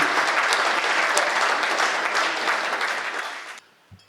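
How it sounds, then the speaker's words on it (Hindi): Dense, steady applause for poet Vineet Chauhan fills a Hindi poetry recital hall, holding loud for several seconds before cutting off abruptly into near silence. "तालियां घनीभूत हो श्री विनीत चौहान आपके लिए"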